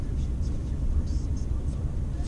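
A 2017 Mercedes-Benz S550 convertible with a soft top, finished in designo Magno Alanite Grey, drives along with a steady low engine and road rumble and a faint whir, continuous and moderately loud, with no talking.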